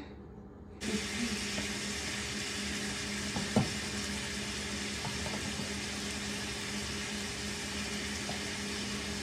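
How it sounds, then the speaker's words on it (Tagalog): Plantains, carrots and red chili sizzle steadily in hot oil for chicken pochero, a continuous close frying hiss starting after a brief quiet moment, with a small clatter partway through. "Paano po, magpiprito muna ako mga kababayan ha."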